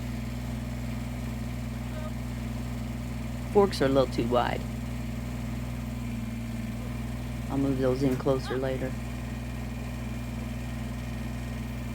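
A compact tractor engine idles steadily with forks fitted to its dump bucket, a constant low drone running through the whole stretch under a man's brief speech.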